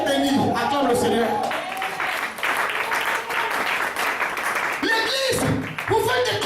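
A church congregation applauds loudly in a big hall, a sustained wash of clapping with a preacher's voice shouting over it and cheering voices rising near the end.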